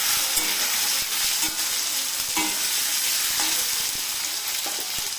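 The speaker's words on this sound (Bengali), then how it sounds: "এখন আলুটাকে ভাজা করা হচ্ছে" Boiled, salted potatoes fry in a pan with turmeric, giving a loud steady sizzle that runs throughout, with occasional stirring scrapes and no voices.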